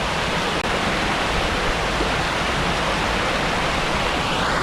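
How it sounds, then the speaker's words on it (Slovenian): A waterfall in a deep gorge in Slovenia roars as a steady, loud, dense rush of falling water, unbroken and with no voices. "Sva na robu slapu, na prelomu,"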